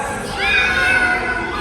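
A voice mimics a cat's meow, one drawn-out, rising and falling mew lasting over a second, close and fairly loud against a murmur of children in a Sunday school gathering.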